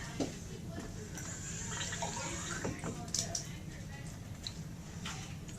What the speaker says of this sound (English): I'm going to go put some water in this.